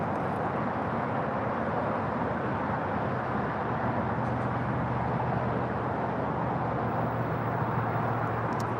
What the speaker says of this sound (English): Taking off, that was American Airlines flight 2656, heading to Philadelphia in an A321neo.